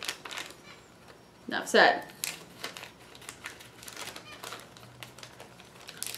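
Food kit packaging gets cut and crinkled up close: scattered snips, taps and rustles, with a louder crinkling burst near the start and a voice speaking briefly.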